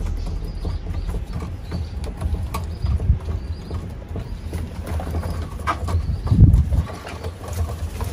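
Pigeons newly arrived in a crate give low, soft coos over a steady mechanical hum and rustling, with a louder, fuller burst of cooing near the end and nobody talking.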